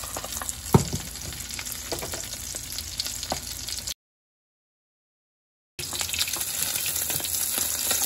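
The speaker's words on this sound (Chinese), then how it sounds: "在煎鱼的时候呢，我们可以随时晃动晃动煎锅" Yellow croaker coated in beaten egg fries in a shaken pan, giving a steady, close hiss of sizzling oil with a sharp clatter near the start. The sound cuts out briefly in the middle, then the sizzling resumes.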